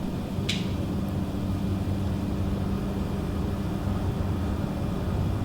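A steady, broad engine roar from an aircraft at takeoff power in Microsoft Flight Simulator 2020 holds at an even level throughout, with one brief click near the start and no voices.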